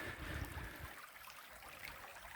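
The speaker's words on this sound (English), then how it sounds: "Creek is flowing pretty good." A creek flowing outdoors in winter after ice breakup, a faint soft rushing wash of water, steady and somewhat distant, with no voices over it.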